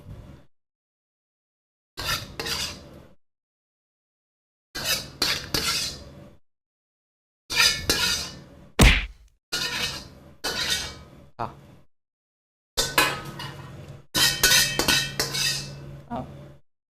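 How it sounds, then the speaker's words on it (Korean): A metal spatula scrapes and clatters against a hot griddle while cooking chow mein, in repeated bursts separated by silences, close and harsh. "철판 긁는 소리 죄송해요."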